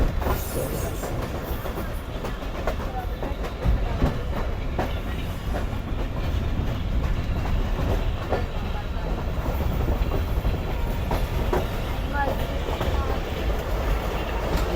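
Rehman Baba Express passenger train rolling toward the bridge over the Indus river, a steady loud low rumble with faint rhythmic wheel clatter throughout, recorded from on board with no talking.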